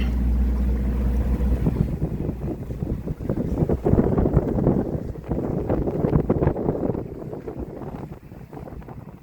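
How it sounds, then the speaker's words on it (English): Sailboat under sail on a sea loch, with steady wind rush and water swishing along the hull, a continuous broad roar close to the microphone, gusting slightly and easing near the end. "finally got the sails up and feels like we're on a sailboat again"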